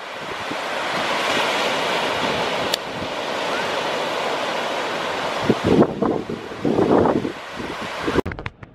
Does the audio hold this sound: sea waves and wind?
yes